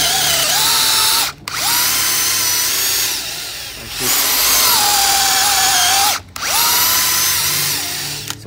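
A FAMAG wood drill bit bores a hole in wood and is withdrawn now and then to clear chips: a loud, steady high whine that cuts out briefly twice before resuming, with no voices.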